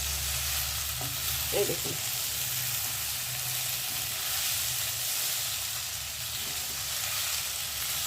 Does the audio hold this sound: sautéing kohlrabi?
yes